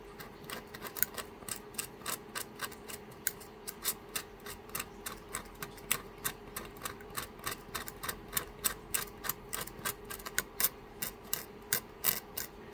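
A burnt circuit-board trace being scraped clean with a tool, producing a steady series of short, regular scraping strokes close up, each stroke a crisp rasp repeating about twice a second, alone without talk.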